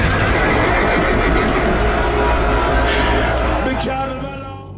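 A horse neighs loudly in a 3D animated film scene set at the battle of Karbala, a sustained whinny over a thick, busy mix of battle noise and music that fades toward the end.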